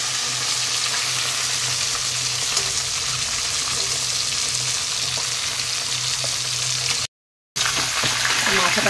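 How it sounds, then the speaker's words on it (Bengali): Katla fish heads sizzle and fry steadily in hot oil in a pan, a loud continuous crackle with occasional stirring, briefly cut out near the end. "মাথাগুলিকে উল্টে পাল্টে একটু ভালো করে ভেজে নেব"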